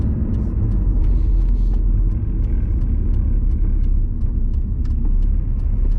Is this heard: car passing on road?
yes